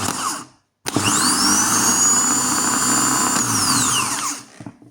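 A repaired Skoda Octavia starter motor spins up with a sharp whirr, holds a loud, steady high whine for about three and a half seconds, then winds down, heard up close after a brief silence.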